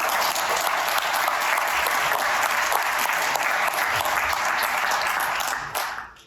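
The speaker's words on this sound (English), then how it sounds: "if you guys could maybe give them a round of applause" A conference audience claps in a steady, dense burst of applause that holds evenly for several seconds and then tapers off at the end.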